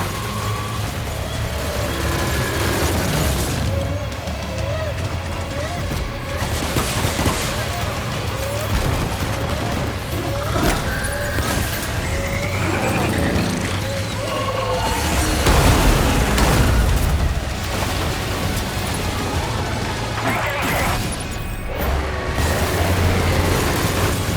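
Gunfire and booming blasts in the action game Death Stranding 2: On the Beach, with bursts and heavy impacts layered over a constant dense backdrop of music and effects, while voices speak throughout.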